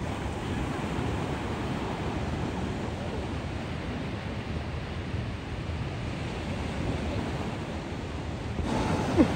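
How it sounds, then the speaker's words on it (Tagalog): Strong ocean waves wash steadily onto a beach at Colibra Island, a continuous broadband roar of surf with wind buffeting the microphone, swelling slightly louder near the end. "May biglang malalakas po na alon."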